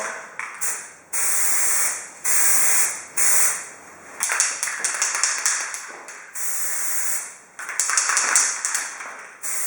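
An aerosol can of primer sprays miniatures in repeated loud, close hissing bursts of one to two seconds, separated by short pauses and some faint tapping.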